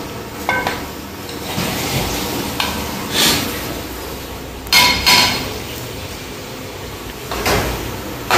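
Chilli chicken being stirred and mixed in a pan, with scraping strokes and metallic clinks at irregular intervals over a low background sizzle, close up and without talking.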